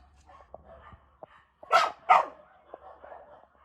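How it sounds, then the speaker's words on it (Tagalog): Two loud dog barks in quick succession, close by, with faint background chatter and small noises before and after. "Ingay naman na aso."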